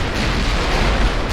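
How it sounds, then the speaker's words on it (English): A torpedo striking a battleship in the naval game Ultimate Admiral: Dreadnoughts, a loud, heavy explosive rumble with a deep boom that rolls on without pause. "There's another torpedo hit."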